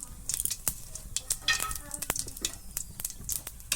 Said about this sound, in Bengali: এবার ফোড়নে দিয়ে দিচ্ছি জিরে।